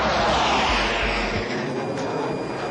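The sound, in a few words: Israeli F-16 jet bombers flying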